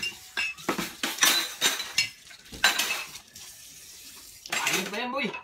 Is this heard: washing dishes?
yes